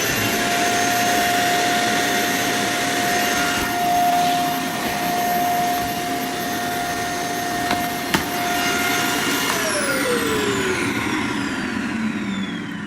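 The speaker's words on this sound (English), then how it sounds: "So there's a lot of suction in here. The vacuum works really well." A Black/Lemon 2156A vacuum cleaner runs loudly and steadily with a high whine, its pitch dropping near the end as the motor winds down.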